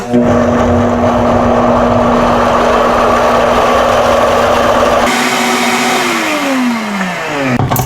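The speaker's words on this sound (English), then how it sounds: "Now, we blend this together in the blender." A blender blending avocado chocolate mousse whirs loudly and steadily at a constant pitch, then its motor note shifts and winds down near the end.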